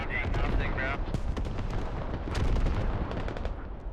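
Dense, continuous gunfire with heavy artillery blasts fills an urban battle in a combat video game, with rapid overlapping shots and booming impacts throughout, loud and close.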